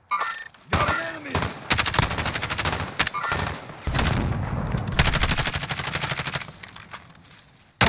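Repeated bursts of loud gunfire in a Call of Duty Warzone match, sustained automatic volleys with short gaps, close and dominant, while players talk briefly between shots.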